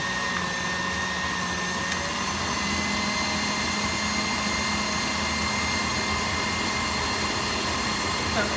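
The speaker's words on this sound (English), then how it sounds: "Can you see that, Maria, that mixer?" Electric mixer whirring steadily while it mixes a gluten-free Christmas cake batter, a continuous close motor drone with no pauses and no talk.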